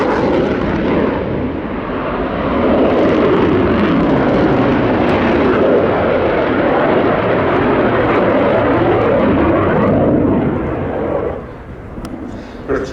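A fixed-wing aircraft performs at the Royal International Air Tattoo, its loud engine roar sweeping past as a broad, sustained rush that holds strong before easing off near the end.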